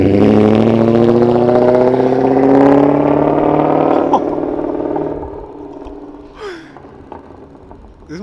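A straight-piped BMW M5 E39 roars past outside, its loud rising exhaust note peaking close by then fading into the distance, with a few faint shouts afterward.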